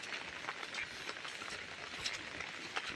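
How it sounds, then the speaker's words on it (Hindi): Steady rain hisses as a continuous, fairly faint wash with occasional louder patters, with no voices. "बारिश भी है"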